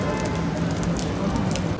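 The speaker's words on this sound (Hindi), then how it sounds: "बारिश आ गई, जब तक बारिश बंद नहीं होती मैं यहीं खड़ा हूँ" Steady rain falls at the Nehru Place market in Delhi, a dense, even hiss and patter of drops that is close and unbroken throughout.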